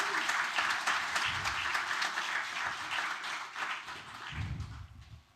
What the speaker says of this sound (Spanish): ¿Quieres dar un aplauso al Señor?